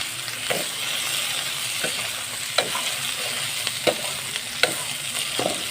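Abal-abal beetles sautéed with chili in a pan, a steady sizzle punctuated by periodic scraping stir strokes roughly every second, close and without talk.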